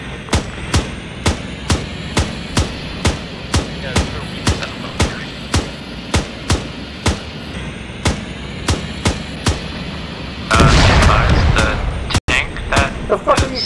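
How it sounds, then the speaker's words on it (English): Rapid gunfire in a military video game, roughly thirty sharp, evenly spaced shots in a steady rhythm, then a loud burst of noise and a few more shots near the end. "I'll just shoot my gun all the way there."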